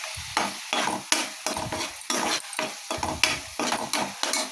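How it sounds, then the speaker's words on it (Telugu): Spice powders of cumin, coriander and fenugreek being stirred in a frying pan, with repeated scraping strokes in a steady rhythm over a continuous close sizzle, no voice present. "ఇప్పుడు మళ్ళీ కలుపుదాం."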